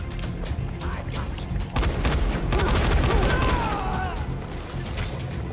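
Rapid gunfire in the zombie video game Dying Light, a dense sustained spray of shots with mechanical clatter, loud and continuous with a sharper surge partway through.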